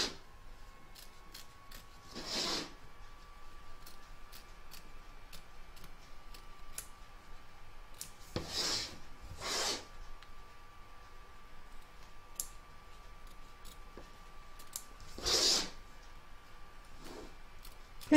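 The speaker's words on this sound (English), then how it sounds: "trim up the excess fabric from both back and front" Scissors trimming excess embroidered fabric from the back and front of an in-the-hoop stacked pumpkin: a few separate crisp snips spaced seconds apart, quiet and close, over a faint steady hum, with no talking.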